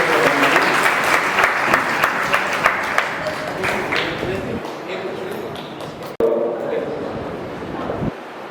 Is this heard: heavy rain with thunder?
no